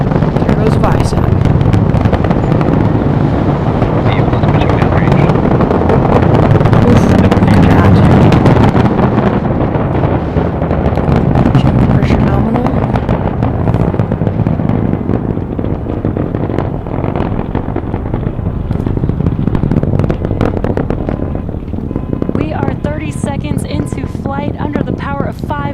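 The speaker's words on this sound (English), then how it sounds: "Engines full power. And there's liftoff. There goes Falcon Heavy." A SpaceX Falcon Heavy rocket lifts off in fully expendable configuration carrying Viasat-3, its engines producing a broad, continuous crackling roar that stays loud throughout, with a commentator's voice faintly underneath.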